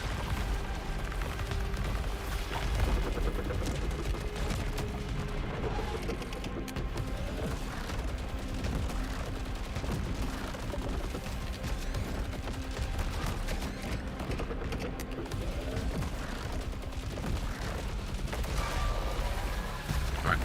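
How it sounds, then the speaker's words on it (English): In the video game Saros, a dense, continuous barrage of gunfire is aimed at a boss, layered with mechanical clatter and explosive rumble throughout. "We'll follow the tried and true method of shoot at it until it dies."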